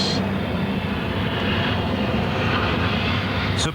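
Concorde supersonic airliner climbing in flight, a steady loud broadband jet engine roar that holds constant throughout, with no voices.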